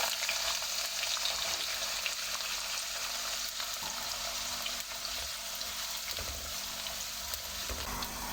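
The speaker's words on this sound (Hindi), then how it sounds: "हल्का सा प्याज को हम ब्राउन करेंगे" Finely chopped onion fries in oil with cumin, cinnamon and cloves, giving a soft, even, continuous sizzle close by, with faint scraping of stirring and no voices.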